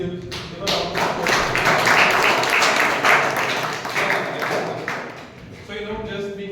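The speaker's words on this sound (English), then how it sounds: "give a round of applause." Audience applause at a Toastmasters club meeting, a loud, dense burst of clapping from a room of people that swells and then tapers off, with a voice rising at the end.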